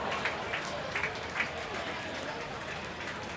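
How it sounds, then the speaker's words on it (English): A football crowd at a Hong Kong soccer sevens tournament murmurs and applauds after a long-range shot, a broad wash of spectator noise with a few sharper claps, heard moderately far away beneath a commentator's voice. "The crowd enjoyed it."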